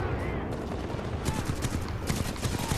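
Rifle fire from a starting rifle in Titanfall 2, rapid bursts of automatic shots crackling over a loud, constant wash of combat noise.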